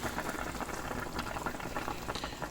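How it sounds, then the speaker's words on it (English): Authentic Taishan-style Chinese fish and tofu soup boils in a pot, a dense, steady bubbling and simmering that continues evenly throughout without any talking. "let it come to a boil and cook for another 15 to 20 minutes"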